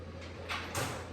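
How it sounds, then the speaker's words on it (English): A door slid open in two short pushes, soft rushing scrapes close by over a low steady hum, with no voices. "And opening that door to reward."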